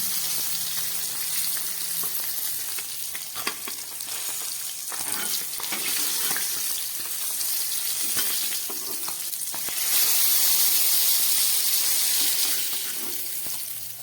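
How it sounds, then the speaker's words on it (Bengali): Singi fish frying in hot oil: a steady, close sizzle and crackle runs throughout, with scattered clinks and scrapes of stirring or lifting the pieces, growing slightly louder near the end. "মাছগুলো আমার 2 পিটি ভাজা হয়ে গেছে, এবার তুলে ফেলছি।"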